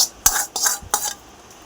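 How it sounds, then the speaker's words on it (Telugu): Tempering poured into tamarind rice and stirred in, with three short scraping, clinking strokes of a spoon against the vessel. The strokes are close and distinct, with quiet gaps between them. "ఈ తాలింపు కూడా ఇలా పోసుకోవాలి"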